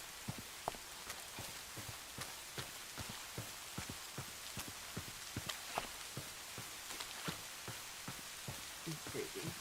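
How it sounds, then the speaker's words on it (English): Steady Minecraft rain hissing continuously, with many small sharp droplet ticks spread irregularly through it, soft and even with no talking. "it's raining as if days are changing"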